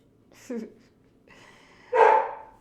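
Dogs bark indoors, a short yip, then a louder bark near the end; fairly close, with no talk over it.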